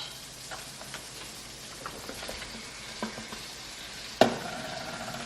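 Onions sautéing in a pan with a steady soft sizzle and frying crackle, close and quiet, broken by scattered stirring taps and one sharp clink near the end.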